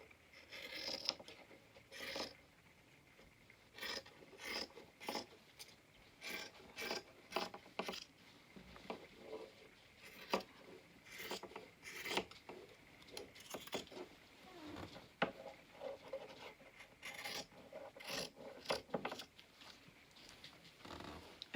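Scissors snip through fabric while cutting out a half heart shape, a run of crisp, closely spaced cuts with short pauses between strokes, near and fairly quiet.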